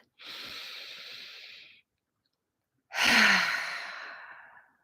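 Two deep breaths, a long airy inhale followed by a louder, fuller sighing exhale, close and alone in a quiet room, with a short pause between them.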